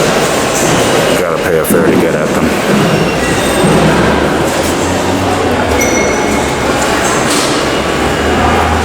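Loud, rumbling subway train noise fills a large subway station in Woodside, with wheels squealing and rattling throughout while someone talks over it.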